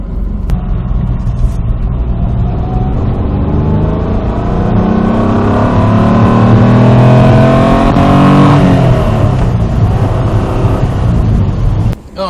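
A Lister Bell Stratos sports car engine revs hard and climbs in pitch, roaring loudly up close, then the sound eases off and drops away.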